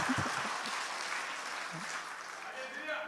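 Sustained applause from a church congregation at a patriotic prayer rally in Paju, a broad, even patter of many hands with a voice talking over it near the start and end.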